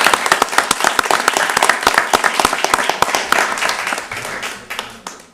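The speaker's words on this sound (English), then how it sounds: "I think we should give a round of applause for all the police officers" Audience applause for police officers at a township board of commissioners meeting, with dense clapping that starts strong, then thins and fades toward the end.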